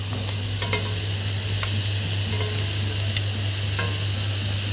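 Chicken and orange pieces fry together in a pan with a loud, even sizzle and a low steady hum underneath, broken by a few faint taps as the orange is pushed into place.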